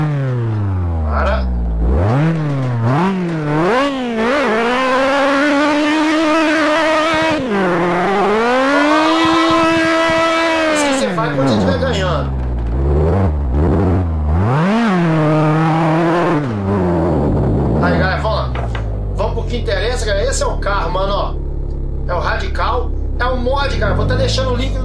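The Radical SR8 RX race car engine in Assetto Corsa screams at high revs, repeatedly climbing and dropping through gear changes, then holding a long sustained wail before settling into rough, uneven revving.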